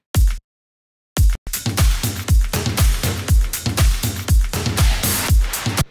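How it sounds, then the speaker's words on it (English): Full drum pattern from a pop production with kick, snare and crisp closed and open hi-hats, a steady driving groove that starts with a couple of isolated hits and a short gap before running continuously and loud. "So all the drums together sounds like this."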